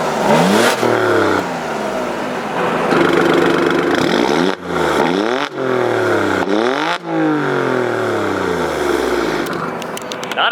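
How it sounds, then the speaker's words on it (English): A 2018 Alfa Romeo Stelvio Quadrifoglio SUV engine revs hard again and again in race mode with exhaust valves open, rising and falling in pitch with a throaty, aggressive exhaust roar, close by. "the valves and the exhaust will open up when I hold it into race mode"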